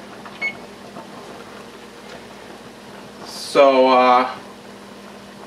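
A kitchen oven's control panel gives one short electronic beep of about half a second as the temperature is set to 400 degrees, rising above a quiet steady room hum.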